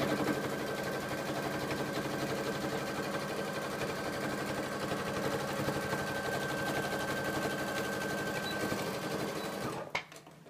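A sewing machine stitches skirt pieces together in one continuous fast whirring run, close and steady for about ten seconds before stopping with a small clunk.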